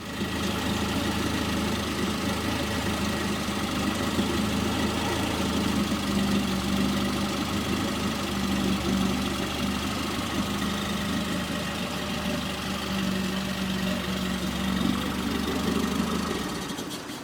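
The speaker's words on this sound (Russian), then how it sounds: "Мы решили запустить мотор без редуктора, подавая воду в трубку охлаждения, имитируя работу водяной помпы." A Yamaha F9.9C outboard motor, fitted without its gearbox and fed cooling water through a tube, runs at a steady idle for a long stretch, a moderate, even mechanical hum with a faint knocking texture and no speech.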